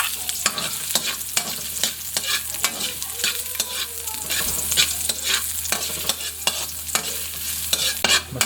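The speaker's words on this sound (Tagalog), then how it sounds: "Ngayon maglagay tayo ng mantika. Isahin na natin itong luya." Ginger frying in hot oil in a wok-style pan for sinigang, a steady close sizzle with repeated sharp scrapes and clacks of a spatula stirring, no talk over it.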